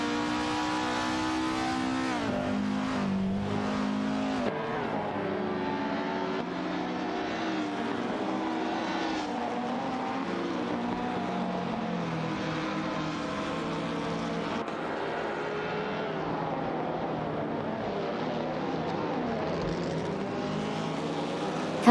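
Race cars in a racing video game, among them an Alfa Romeo 159, producing a continuous loud engine roar with shifting pitch as they accelerate and change gears, several cars overlapping for the whole stretch with no talk.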